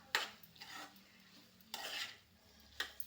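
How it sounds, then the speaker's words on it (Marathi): Spoon scraping and stirring paneer, peas and cauliflower in a pan, several distinct scrapes and knocks spaced a second or so apart, close and quiet with a faint sizzle underneath. "चला आता याच्यात टाकत आहे आपण पनीर मटर फुलकोबी. छान फिरवून घ्यायचं."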